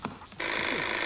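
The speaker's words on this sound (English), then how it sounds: "The phone. I'll get it." A telephone on Sesame Street begins ringing after a moment of quiet, a loud sustained bright electronic ring that continues steadily to the end.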